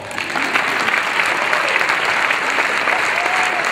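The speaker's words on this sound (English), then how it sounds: "That's where you give a round of applause." A school audience at a State of the Schools address breaks into sustained, loud applause, dense clapping filling the whole stretch with no pause.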